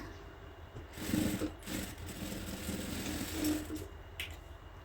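A sewing machine stitching a cloth shopping bag, its motor whirring in a steady run with brief surges and slowdowns, close and moderately loud, with no talking.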